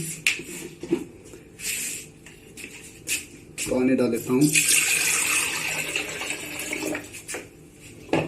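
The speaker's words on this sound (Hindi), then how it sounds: "मैं इसमें थोड़ा सा पानी डाल लेता हूं" Water pours from a tap into an electric kettle under repair at home, a splashing fill lasting a few seconds mid-clip, framed by clicks and handling knocks and someone talking.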